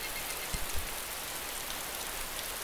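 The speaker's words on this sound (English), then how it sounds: "It would be raining. It's always raining." Rain falls steadily in the video game DayZ as a soft, even hiss, with a couple of faint low thumps early on.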